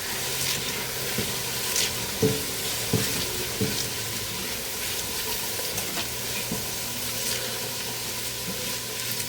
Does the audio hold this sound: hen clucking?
no